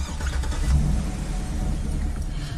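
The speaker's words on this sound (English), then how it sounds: "Potential eyes on Egan headed south on Crescent Street in a black BMW" A black BMW pulls out onto a street, its engine rising in a low rumble as it moves off nearby, with faint street ambience behind.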